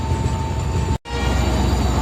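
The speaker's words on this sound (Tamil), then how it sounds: "ஹார்ன் சவுண்டு கேட்டீங்களா? செம்மையான ஹார்ன் சவுண்டுங்க." A loud, continuous rumble of the Yercaud Express, an Indian train with LHB coaches, with a steady tonal diesel locomotive horn drone, briefly cut by a short silent gap in the middle.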